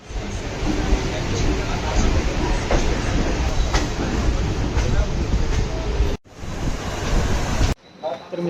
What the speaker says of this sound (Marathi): आपली ट्रेन प्लॅटफॉर्म क्रमांक 1 वर लागली असेल